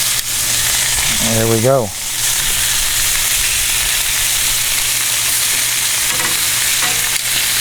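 Pork chops sear in a hot pan with a steady, loud sizzle throughout, while a person speaks briefly early on.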